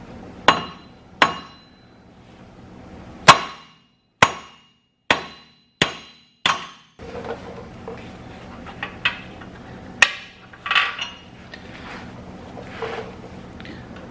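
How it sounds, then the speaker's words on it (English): A 4-pound sledgehammer knocks a broken lug nut out of a wheel hole, with about eight sharp metallic strikes spaced roughly a second apart, followed by fainter clinks and scraping. "this lug nut out of this hole using a 4-pound sledge"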